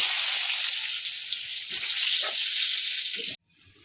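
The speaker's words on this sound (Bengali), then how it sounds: "খিচুড়ি আর বেগুন ভাজা হচ্ছে" Brinjal (eggplant) slices frying in oil in a home kitchen, a loud, steady sizzle up close with a few light knocks. It cuts off abruptly just before the end, with no talking.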